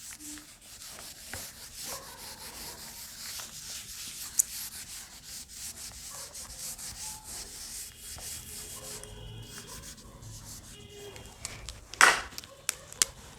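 Board eraser rubbing out writing on a classroom board, repeated brisk scrubbing strokes close by, with a few knocks and a sharper scrape near the end.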